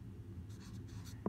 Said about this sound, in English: I'm going to write what this is